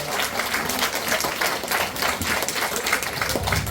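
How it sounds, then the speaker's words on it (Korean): Audience applause at a Gwangju–Jeonnam opinion leaders' special workshop lecture, a steady dense wash of many hands clapping at moderate distance, continuous throughout without talk. "큰 박수 부탁드립니다."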